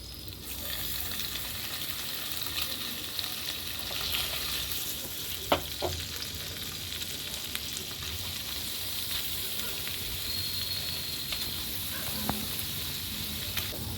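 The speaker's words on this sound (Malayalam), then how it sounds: "അടുത്തടുപ്പിൽ പനീറൊന്ന് ഫ്രൈ ചെയ്യാം നമ്മളിപ്പോൾ പനീറൊന്ന് ചൂടാക്കി എടുക്കുന്നത് ബട്ടറിലാണ്" Paneer fries in butter in a pan with a steady, close sizzle and crackle, broken by a few sharp spoon clicks, and no talking.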